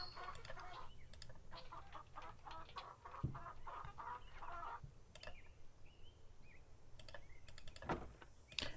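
Chickens clucking on a ranch in the Nancy Drew Secret of Shadow Ranch video game, quiet scattered clucks and squawks from several birds over a low outdoor background.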